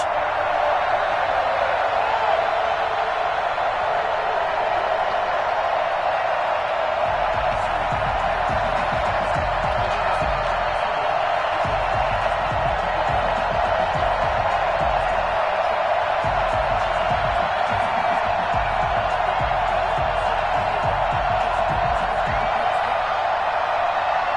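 Stadium crowd roaring at an NFL video game matchup of the Chiefs against the Jaguars in Kansas City, a steady dense wash of cheering that fills the whole stretch, with low rumbling swells rising and falling underneath.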